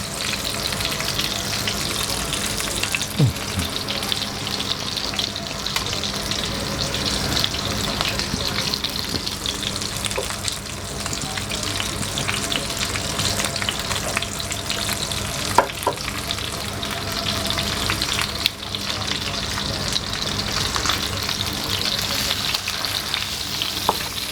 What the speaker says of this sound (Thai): เอา มันลงไปทอดรอบนึงออกมาแบบครับ